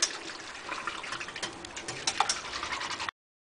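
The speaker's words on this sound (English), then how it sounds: "Then whisk that all around so that it's evenly spread through everything that's over here." A whisk scrapes and stirs yogurt into milk in a steady, soft, rapid rhythm of light ticking strokes, close and quiet, with no talking.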